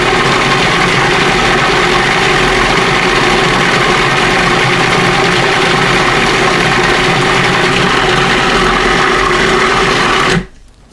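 A food processor blends garlic paste for toum with a loud, steady motor whir that runs unbroken for about ten seconds, then cuts off abruptly.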